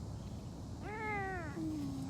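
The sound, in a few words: Savannah cat meowing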